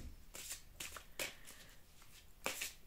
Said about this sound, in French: Alors, maintenant, on va tirer une petite carte